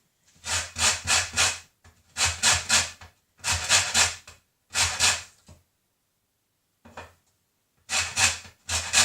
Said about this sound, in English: I'm going to get my grater and I'm going to grate some lemon.